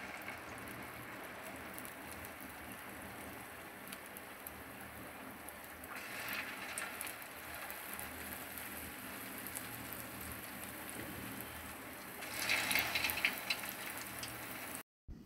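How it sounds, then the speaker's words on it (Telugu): Purnalu, sweet stuffed dumplings, deep-fry in hot oil with a steady fizzing sizzle that swells twice, the second time more loudly near the end, with no talking. "ఈ విధంగా వేగాలి."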